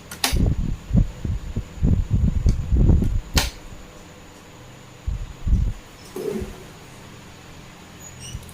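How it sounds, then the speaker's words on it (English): A sewing machine stitches zigzag seams on a short bubu dress. Two close bursts of rapid mechanical throbbing are heard, a long run of about three seconds and then a shorter one, with no talking. "So this machine has zigzag stitches."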